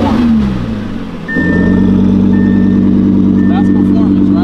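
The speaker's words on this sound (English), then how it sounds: "You could start this thing and it's loud." 2023 Audi R8 engine firing up with a sharp revving burst, then settling into a loud, steady exhaust drone close by, with speech over it.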